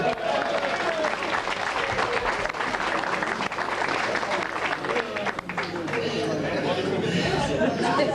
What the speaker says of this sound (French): Allez, qu'on l'applaudisse pour la version allemande.